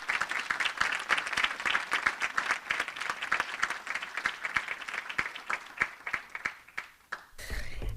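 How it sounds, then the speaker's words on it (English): A big round of applause at a school board business meeting, a sustained crowd clapping with dense sharp claps at an even level, tapering off near the end. "if we could just give them a big round of applause"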